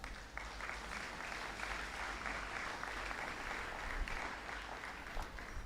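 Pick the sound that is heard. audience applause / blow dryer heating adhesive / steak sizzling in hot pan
audience applause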